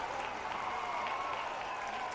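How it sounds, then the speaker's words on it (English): A crowd at a high school 3A baseball quarterfinal claps steadily in rhythm from the stands, a soft, distant, continuous patter with no talk over it. "Juab crowd getting the clap going."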